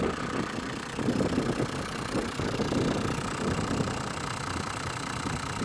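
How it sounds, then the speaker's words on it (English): A 2006 Toyota Land Cruiser 100 series 60th anniversary edition with a 4.2 diesel engine idles with a steady, low, rumbling clatter that holds constant throughout. "It's got the standard diesel noises"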